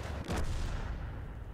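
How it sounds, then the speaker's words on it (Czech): A tank cannon in the online game World of Tanks fires gold premium ammunition, producing a single loud, close boom with a sharp onset that decays into a rumbling tail over about a second. "M3 Lee vidíte, že pálím goldem"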